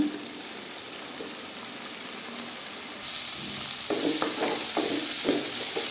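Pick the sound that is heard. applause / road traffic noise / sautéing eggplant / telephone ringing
sautéing eggplant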